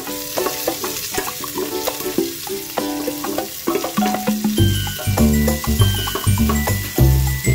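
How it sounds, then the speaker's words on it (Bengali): Onion frying in a pan for a mutton stew, stirred with a utensil; steady close sizzle with repeated scraping and clinking strokes, growing louder and denser toward the end, with no voices. "পেঁয়াজটা দিয়েও এবার নেড়ে চেড়ে নিই।"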